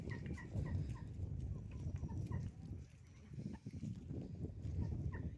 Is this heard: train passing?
no